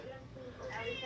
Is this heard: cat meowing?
yes